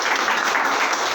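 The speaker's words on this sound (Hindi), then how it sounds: "जोरदार तालियां" Enthusiastic audience applause at a business plan presentation, a thick continuous wash of clapping heard up close and loud throughout the short stretch.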